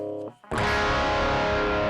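Electric guitar played through a Behringer TM300 amp emulator set to a British amp voice with a slightly more modern cabinet, tones at noon and gain up: a short clean-sounding phrase, a brief gap, then a loud sustained distorted chord ringing out alone.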